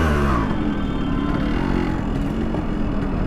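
A Yamaha RX100 two-stroke motorcycle engine revs loud and steady throughout, close up during a motovlog ride through a crowded, pothole-filled street.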